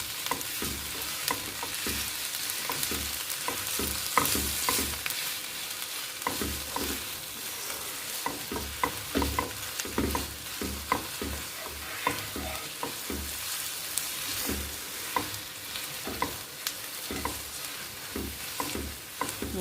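Onion and sugar caramelizing in a pan for plum chutney: steady close sizzling of frying with regular scraping stirs of a utensil against the pan, no voices.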